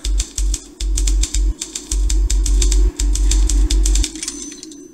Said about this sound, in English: One of them newfangled automatic typewriters